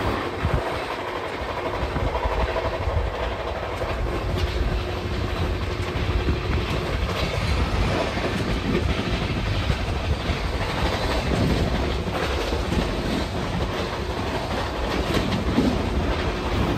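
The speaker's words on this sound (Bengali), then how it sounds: "পুরো 130 কিলোমিটার গতিতে ডানকুনি পার করছে ট্রেন।" Howrah–Bolpur Shantiniketan Superfast Express (12337) running at 130 km/h past Dankuni, heard from on board as a steady, loud rumble with continuous clickety-clack of the wheels throughout, with no voices.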